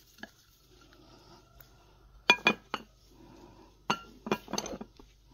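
Fish cake ingredients such as onion, carrots, cabbage and an egg are stirred together in a bowl, giving bursts of close clinking and scraping of a utensil against the dish, with quieter stirring between them.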